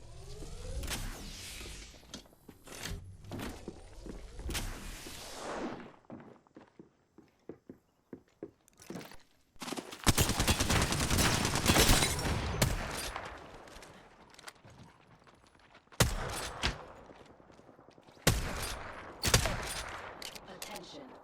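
Bursts of gunfire in the Apex Legends battle royale, with rapid volleys and single shots clustered in loud bursts around the middle and end, between stretches of quieter movement and scattered impacts.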